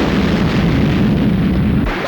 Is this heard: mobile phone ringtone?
no